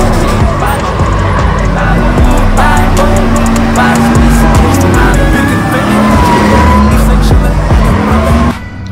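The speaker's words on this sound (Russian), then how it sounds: "они сейчас так газуют" Drift cars rev their engines hard and skid their tires in long, loud squeals, engines roaring close by for several seconds, with people talking over the noise.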